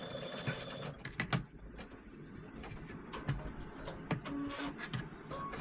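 An embroidery machine stitches a tea towel with a quiet, steady mechanical whir and ticking, overlaid by scattered handling clatter and faint knocks nearby.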